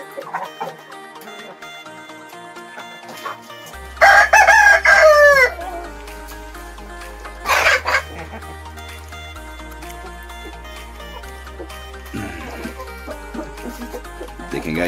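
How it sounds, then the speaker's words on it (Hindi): Desi Aseel roosters crow in two loud, separate bursts, with softer clucking between and after them, close to the microphone. "ये रहे हमारे देसी मुर्गे"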